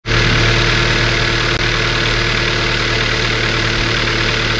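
2016 Hyundai Accent engine idling: a steady, even, close-up hum that starts abruptly and runs without change, with no talk.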